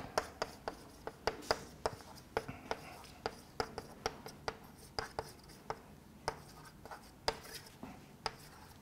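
Chalk tapping and scraping on a blackboard in a lecture room, a steady series of short, sharp strokes and clicks at an irregular writing rhythm, fairly close and moderately loud, with no talking over it.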